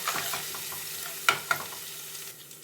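Soya chunk curry masala stirred in a hot pan, a soft continuous sizzle with scraping spoon strokes and two sharp knocks against the pan, close by.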